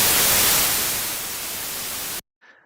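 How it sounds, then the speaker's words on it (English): Loud, hissing white noise from a VCV Rack modular synthesizer patch plays steadily, fading slightly before cutting off abruptly, followed by a faint brief tone. "So white noise is going to be random voltage all across the frequency spectrum."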